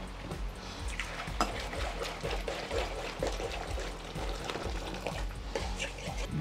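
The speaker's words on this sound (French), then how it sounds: "je vais préparer du bouillon à partir d'eau bouillante que j'ai fait chauffer et de bouillon en poudre" Boiling water with powdered stock poured to make vegetable broth for a vegan onion soup, a continuous close liquid pour with gurgling and splashing, steady and moderately loud.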